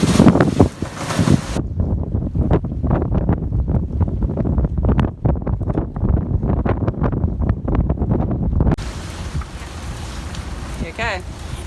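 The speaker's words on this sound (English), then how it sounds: "It's so windy out there." Strong wind at sea buffets a sailboat, roaring and gusting hard across the microphone in dense bursts, with a voice briefly speaking as the wind eases toward the end.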